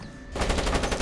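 Automated turret gunfire in the Splinter Cell stealth game, a sudden rapid burst of close, loud machine-gun shots hammering at a light after a brief quiet moment.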